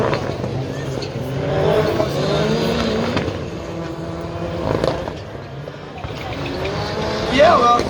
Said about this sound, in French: Guillaume avec la Hyundai revient très très fort